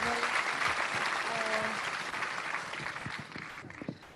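A crowd at a live talkaoke show keeps up a full round of applause for a guest, thick steady clapping that thins and fades near the end, with a voice speaking through it.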